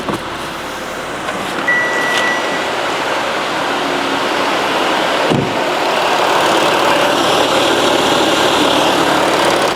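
A car engine, on a car getting its automatic gearbox serviced with a fluid flush, starts and settles into a steady, continuous idle, close and fairly loud with no talking.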